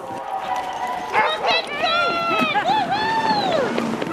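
Many young sled dogs at a large kennel bark, yip and howl together, rising and falling cries overlapping in a busy outdoor chorus, with a voice talking over them.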